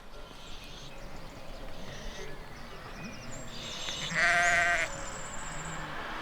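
A sheep grazing on farmland beside a motorway in the region of the Millau Viaduct bleats once, fairly clearly over a steady rough outdoor background, amid faint other farm noises.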